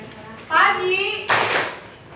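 A class of schoolchildren performs a clapping chant, voices chanting together followed by bursts of rhythmic hand claps, close and fairly loud.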